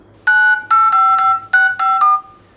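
Keypad tones from the dialer app on a Moto G smartphone: seven loud, close electronic beeps in a quick irregular sequence, each a clean two-tone note, with no speech.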